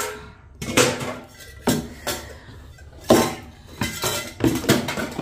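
Dishes, tea things and bowls are set into a cheap portable dishwasher, making a series of clattering clinks and knocks at irregular intervals. Each clank of ceramic and metal sounds close and distinct.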